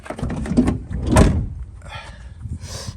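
A sliding door lock is worked back and forth, with a few muffled mechanical clunks and one louder thunk in the middle, close by over low background noise.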